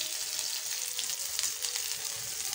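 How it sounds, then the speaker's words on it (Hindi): Green chillies frying in oil in a home kitchen pan: a steady, continuous hiss and crackle of sizzling heard close, with no talking. "साथ में हरी मिर्ची हमने इसमें डाल के फ्राई कर ली है"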